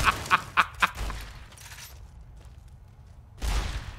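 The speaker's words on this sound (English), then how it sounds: "I hear gunfire, and it's not from us." A quick burst of four sharp gunshots rings out in the video game Fallout New Vegas, followed by a lull and a later rumbling thud; the shots are loud and evenly spaced.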